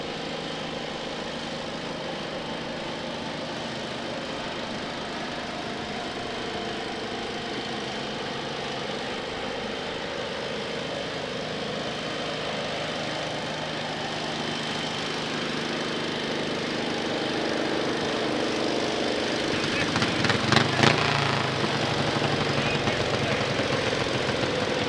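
Garden tractor engines idle steadily at a tractor pull for the 1050 stock class, a continuous loud mechanical drone with a sharper rattling burst near the end.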